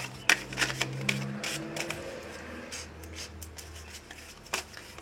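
A deck of tarot cards being shuffled and cut, with a rapid riffling flutter at the start, then scattered soft card slaps and taps over a low background hum, close and fairly quiet, no talking.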